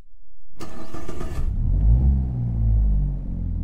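A car engine in the Assetto Corsa racing game cranks with a buzzing starter for about a second, then catches and settles into a deep, loud idle rumble, with no talk over it.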